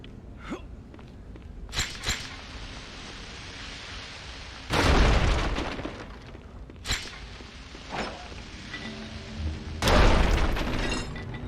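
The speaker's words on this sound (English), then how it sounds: "Exploding wood physics." Wooden objects burst apart in the Dark Alliance video game, producing two loud, booming crashes with splintering debris, several sharper thuds and pops in between, and a faint steady background hum.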